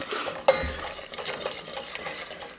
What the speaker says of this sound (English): we're cooking the flour so it loses that taste, but it gets a nutty kind of flavor